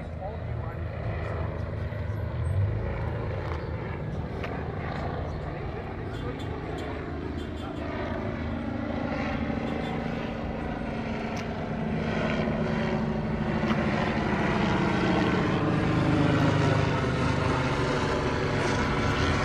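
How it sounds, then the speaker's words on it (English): Helicopter droning overhead at a crowded outdoor rally, a steady rotor and engine roar that swells slightly toward the end, with people talking and shouting underneath. "that's the helicopter that was parked in front of my airplane"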